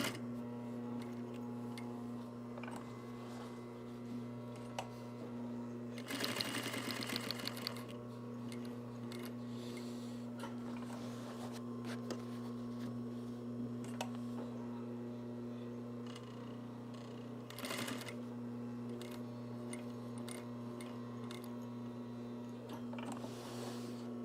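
A sewing machine stitches around all four sides of a Velcro patch on a shoulder bag, a steady mechanical hum with fast ticking stitches and a few louder bursts, heard close and continuous.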